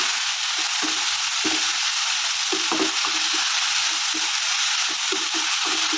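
Sliced eggplant and potato fry in a pan with a steady, loud hiss, while a spatula stirs them in repeated scraping strokes across the whole stretch. The sound is close, with no voices.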